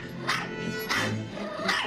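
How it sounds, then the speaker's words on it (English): A very yappy small dog lets out loud, piercing barks in a film soundtrack, three sharp bursts spaced about half a second apart over a steady background. "a lot of the soundtrack is loud, piercing dog barks"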